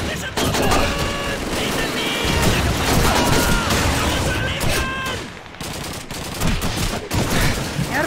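Bursts of gunfire from a video game battle against German soldiers, steady and dense throughout with rapid shots and booms, layered over a constant backdrop of game noise and a voice talking.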